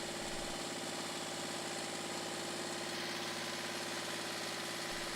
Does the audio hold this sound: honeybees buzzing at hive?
no